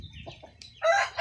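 Chickens and chicks on a farm cluck and squawk close by, ending in a brief loud call.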